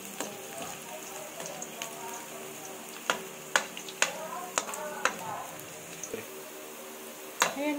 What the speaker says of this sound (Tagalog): Pula-pulain muna natin ang ating bawang.